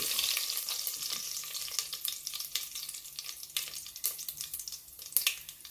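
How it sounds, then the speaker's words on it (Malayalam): Curry leaves crackle and sizzle in hot oil for a kerala-style chickpea curry, a steady close frying hiss with sharp spitting pops throughout and no voices. "ഈ കറിവേപ്പില ഇടുമ്പോൾ ഒരു സൗണ്ട് ഉണ്ട്."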